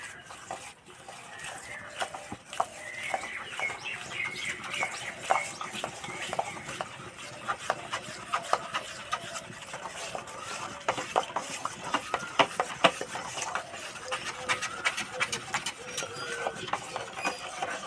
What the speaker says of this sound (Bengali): চিনিটা যতক্ষণ না গলছে এইভাবে মেশাতে থাকতে হবে